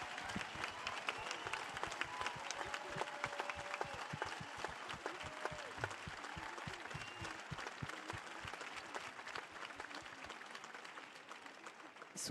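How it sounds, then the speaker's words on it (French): An audience at a round-table conference in Toulouse gives sustained, dense applause, many hands clapping continuously for several seconds before fading out. "Je crois que vraiment on peut les réapplaudir."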